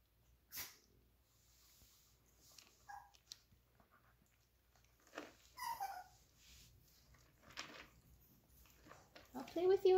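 A jealous older puppy whimpers and sniffs in short, soft bursts close by, with quiet breathing and a sneeze-like snort between the faint cries.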